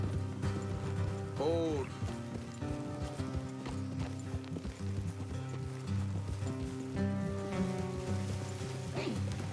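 Steady clip-clop of horse hooves on a road in the video game Red Dead Redemption 2, riding under light rain-like ambience, with someone speaking briefly and music in the background.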